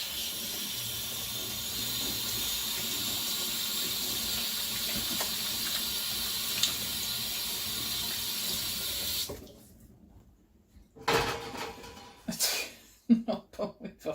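Hot water runs steadily from a kitchen tap into a sink for about nine seconds, a loud continuous hiss and splash, then stops abruptly, leaving a few faint clatters and knocks.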